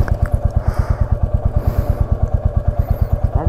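Scooty ridden on the road from Gudisa to Lambasingi: a steady, fast-pulsing engine putter runs close and loud without a break, with faint clatter over it.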